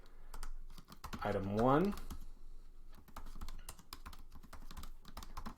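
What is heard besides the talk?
typing on a computer keyboard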